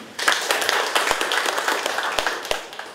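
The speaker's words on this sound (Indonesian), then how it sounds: "kita berikan aplaus sekali lagi" An indoor audience at a Bali forum on poverty claps together in a dense, steady round of applause that stays loud for the whole stretch, with a few sharper individual claps standing out.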